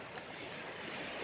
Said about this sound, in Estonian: veekohin ja tuul teevad oma töö